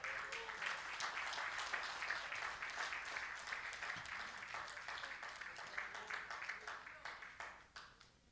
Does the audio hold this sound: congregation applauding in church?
yes